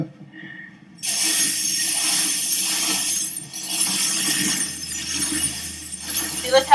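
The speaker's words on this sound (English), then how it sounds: "he's got glass all the way over here because he dumped it" Broken glass dumped onto the ground, a loud bright crashing and tinkling cascade of shards that begins abruptly and keeps clattering for several seconds, no talk.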